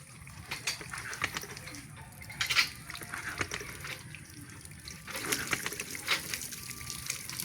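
Water from a hand pump well splashes and gushes in uneven bursts, with dripping and trickling between surges, fairly faint and close by.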